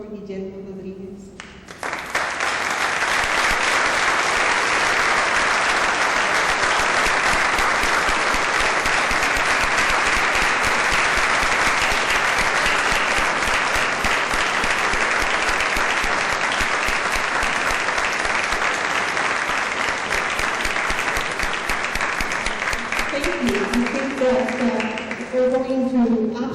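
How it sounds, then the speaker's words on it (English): Sustained audience applause at an awards ceremony, a loud even wall of clapping lasting over twenty seconds before fading as a voice begins speaking. "I want you to please give a round of applause for Guillermo Rodriguez."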